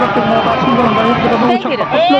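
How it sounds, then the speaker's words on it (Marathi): Dense crowd hubbub and chatter on a packed, jammed road at Shingnapur, many voices overlapping continuously, near and loud, with traffic noise mixed in. "कसली जबरदस्त गर्दी आहे"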